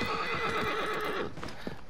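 A horse in Shadow of the Colossus gives a loud, drawn-out whinny over rhythmic hoof clip-clops, the neigh cutting off partway before a few softer snorts and steps.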